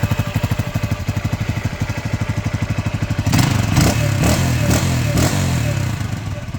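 A Lifan CCR150 motorcycle engine with a burnt-through exhaust idles with a steady, rapid putter, then revs up into a louder, rougher roar with a few throttle blips.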